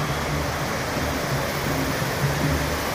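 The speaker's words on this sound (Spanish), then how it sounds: "el sonido del agua golpeando las piedras" The Cali River, swollen after rain, rushes over stones in a steady, dense, close wash of water noise with no pauses.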